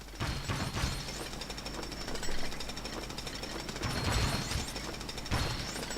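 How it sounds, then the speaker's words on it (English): A jackhammer in the video game Lego City Undercover pounds away in a dense, rapid rattling burst, loud and continuous with sharp impact bursts as objects break apart, no voices. "like these little moments where you just get to blow stuff up with the jackhammer"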